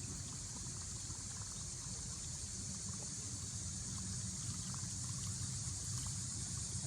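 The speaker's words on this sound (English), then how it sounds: "It's got that little prop action like a buzz bait." A whopper plopper topwater fishing lure's propeller churns the water with a steady, continuous buzzing splash, alone and without talk, at a moderate level throughout.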